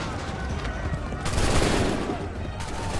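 Massed musket fire in Assassin's Creed 3 at Montreal, a dense crackling volley swelling midway and rolling on over a busy battle din of background shouting and chaos.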